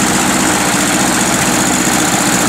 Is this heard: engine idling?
yes